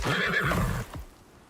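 A horse in the Icarus video game lets out a close, loud whinny that trails off after under a second, leaving faint background rumble.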